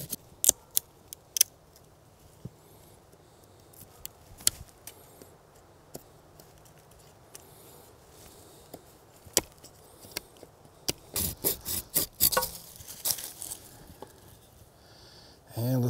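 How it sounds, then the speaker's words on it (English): A knife carves a point onto a wooden stick outdoors in a bushcraft setting, sharp scraping cuts and clicks arriving irregularly and close, growing denser and louder toward the end over quiet background. "And let's carve a point out."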